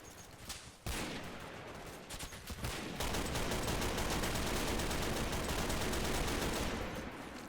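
Machine gun fire, MG34 style, rattles in a World War II strategy game battle on the Maginot Line, loud, rapid and continuous after a few opening bursts, with no voices.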